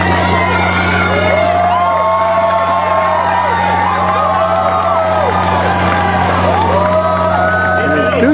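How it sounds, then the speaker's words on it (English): An enthusiastic roadside crowd cheers at a women's 5K Turkey Trot race in Silicon Valley, with a dense, continuous roar of shouts and whoops that rises and falls throughout. "An enthusiastic crowd."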